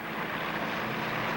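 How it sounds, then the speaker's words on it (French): An airplane engine in trouble drones overhead in an animated film, a brief steady noisy hum with no voices. "C'est un avion. Mais il est en difficulté."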